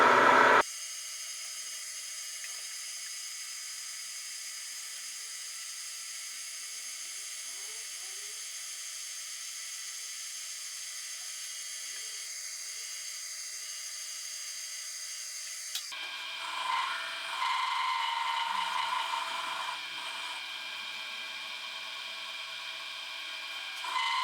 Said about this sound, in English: against this bath stop I will machine the other side